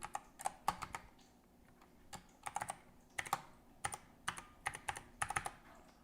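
Fingers type on a computer keyboard in quick irregular bursts of crisp key clicks with short pauses, close and fairly quiet, with no speech.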